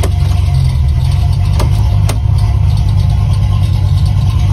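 A Chevrolet Malibu's engine runs steadily as the car is shifted into gear, a loud, close, continuous low rumble with a couple of faint clunks partway through.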